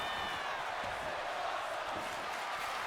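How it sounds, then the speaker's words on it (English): Crowd roar from a wrestling arena in WWE 2K26, a steady, loud wash of cheering and chanting filling the whole clip without a break, with no clear voice standing out. "Crowd is chanting, this is awesome"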